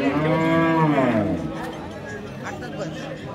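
A Friesian cow moos once, long and loud, at Raniganj cattle market in Dinajpur. The call lasts about a second and a half, and people chatter in the crowd around it.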